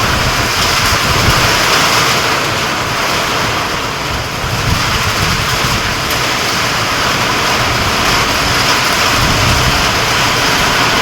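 Near Tulshi dam a torrential downpour roars as a loud, steady wash of noise with gusty wind mixed in, dipping slightly midway and otherwise constant.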